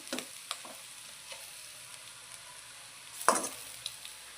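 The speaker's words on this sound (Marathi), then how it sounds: "मीठ टाकल्यानंतर ती परत मिक्स करून घेणार आहोत।" A capsicum and onion stir-fry with salt added is stirred in a pan, making a faint sizzle under a few soft scraping strokes of a spoon and one sharper clatter near the end, heard close with no talk.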